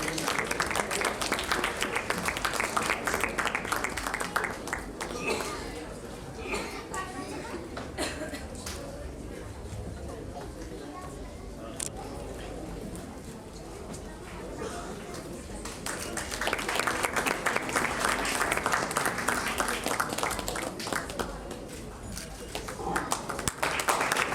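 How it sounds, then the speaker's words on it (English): Crowd at a corporate social event in Kolkata claps for people called on stage. The applause swells loud at the start, fades to a murmur of chatter and scattered claps midway, then rises again, with voices mixed in. "A round of applause for them, please."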